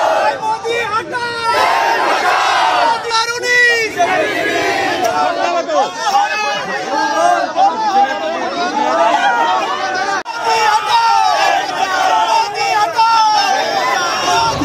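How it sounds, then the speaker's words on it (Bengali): A dense crowd of Trinamool Congress supporters loudly chants 'Bolo Hari' slogans in rhythmic shouts while burning an effigy of Modi, voices overlapping continuously throughout, close and loud. "বলহরি স্লোগান তুলে দাহ করা হলো মোদীর কুশপুতুল"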